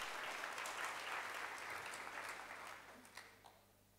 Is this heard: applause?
yes